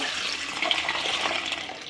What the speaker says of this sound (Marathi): भरपूर पाणी टाकून स्वच्छ धुवून घ्यायचं आहे आपल्याला डाळी सर्व